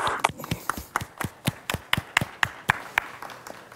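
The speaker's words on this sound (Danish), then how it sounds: "Lad os give ham en klapsalve." Applause at a general assembly: fairly sparse, distinct hand claps in a steady rhythm, a small group clapping in a hall, moderately loud and heard without talk.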